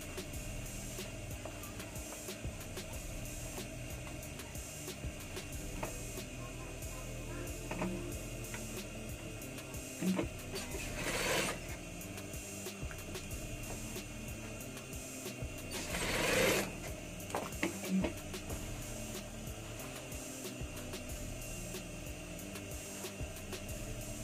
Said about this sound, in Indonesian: lalu kita tiban jahitannya.